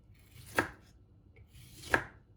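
A knife slicing through a tomato on a board, two crisp separate cuts about a second and a half apart, close and quiet with no voices.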